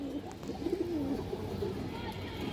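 Soft, faint cooing of Kaldam pigeons, a few low throaty coos close by beneath a quiet room murmur and a voice.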